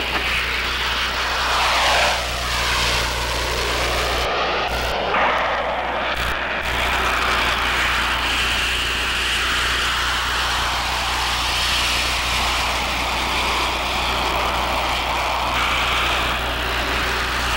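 A steady, droning aircraft engine from an aerial target drone flying during a William Tell air-to-air weapons meet, a loud continuous roar with a low hum persisting throughout, briefly shifting pitch as it turns.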